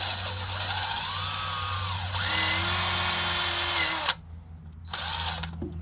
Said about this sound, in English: we got that surface cleaned up pretty good with my little wire wheel on my drill attachment